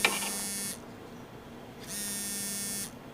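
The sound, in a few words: mobile phone ringing in a film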